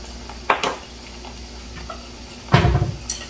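Ingredients with black pepper and sauce are stirred together in a pot in a home kitchen, with a couple of louder metallic clanks of utensil against pot over a quiet background hiss.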